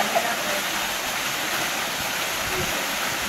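A waterfall on a Maui hike gives a continuous, moderately loud rushing hiss of water, steady throughout with no clear talk over it.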